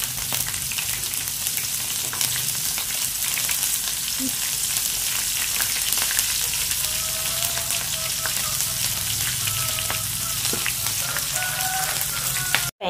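Banana blossom frying in oil makes a loud, constant rain-like sizzle with scattered crackles and pops, heard close up and uninterrupted for the whole stretch.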